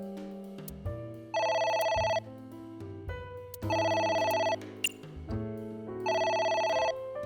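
A phone rings in the video game AI: The Somnium Files, a loud electronic ringtone in three repeating bursts, each with rising tones followed by a bright warbling trill, alone.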